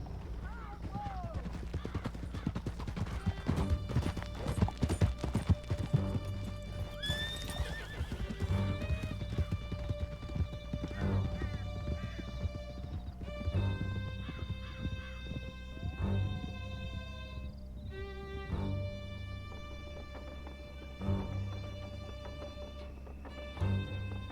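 Horses gallop in Red Dead Redemption 2, with steady rapid hoofbeats and occasional neighs running throughout, mixed with music and people talking over the ride.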